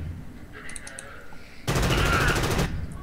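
A burst of rapid automatic gunfire from the video game Frontline Tactics comes in suddenly over quiet in-game background sound, runs for about a second as evenly spaced loud shots, then cuts off.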